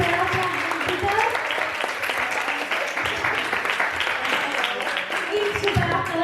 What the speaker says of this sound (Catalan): Uau, l'aplaudiment, sisplau